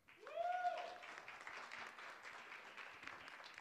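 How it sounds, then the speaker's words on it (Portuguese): Audience applause at a panel on public security at the Brazil Conference 2022, a broad steady wash of clapping that swells quickly and holds fairly even to the end, with a brief voice-like tone near the start. "Samira Bueno, com a salva de palmas."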